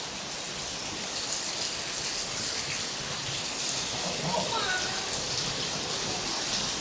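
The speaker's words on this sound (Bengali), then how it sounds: "ভালো পরিমাণে বৃষ্টি হচ্ছে।" Heavy rain pours steadily over crop fields that are filling with water, a dense, continuous hiss of drops on wet ground that stays loud and even throughout.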